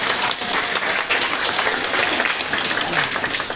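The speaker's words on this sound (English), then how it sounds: "please give a big round of applause to the people" Applause from a seminar audience on interactive peer-to-peer teaching techniques, a dense steady wash of many hands clapping that fills the whole stretch at an even level, with some voices mixed in.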